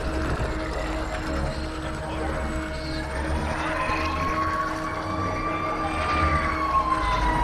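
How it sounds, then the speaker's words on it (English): Emergency vehicle sirens wail and slowly rise and fall, caught by a microphone during a video game session and blended with steady game sound and background noise. "the sirens are coming through my mic"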